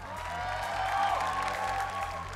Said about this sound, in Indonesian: Kita berikan tepuk tangan dong.